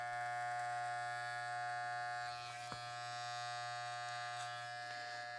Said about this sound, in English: And I like the trimmers with the T-blade on it, so it's easy to draw an outline around the ears.